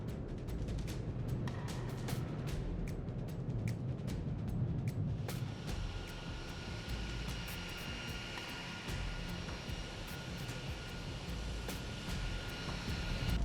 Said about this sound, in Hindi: अमेरिका ने कई सैन्य विमान जैसे